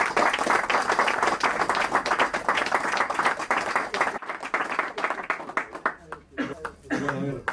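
Audience at a book presentation applauds to welcome an author, dense steady clapping for about four seconds, then thinning into scattered claps under a voice that begins speaking.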